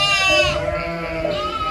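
A sheep bleats on a farm in a rural Turkish village, a loud, wavering, drawn-out bleat up close, running steadily for nearly two seconds.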